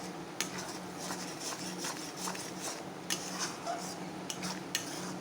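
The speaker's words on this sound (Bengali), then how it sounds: "আর একটু ভালো করে এটাকে নাড়িয়ে নেব" A spoon stirs a palm fruit and coconut mixture in a pan, making a steady scrape with intermittent clinks against the metal, fairly quiet and close.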